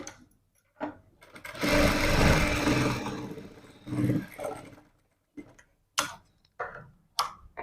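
A sewing machine stitches a blouse up close, with a sustained whirring run of rapid stitching followed by several short, separate bursts of stitching with pauses between them.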